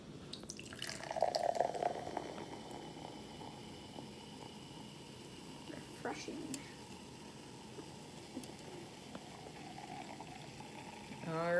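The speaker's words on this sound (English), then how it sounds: "we're gonna start by pouring some of the soda into the glass here" Sprite soda pours into a glass, a soft fizzing, trickling flow with scattered drips and bubbling, moderately close and fairly quiet, with a louder splash at the start and a rising rush at the end.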